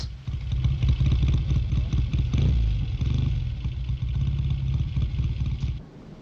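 A noisy vehicle engine runs close by with a rough, clattering mechanical rhythm and dense low rumble, steady for several seconds before the sound cuts away near the end.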